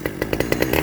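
Stihl 009L chainsaw running in hot weather without choke, its small two-stroke engine giving a loud, close buzzing drone with rhythmic pulsing surges.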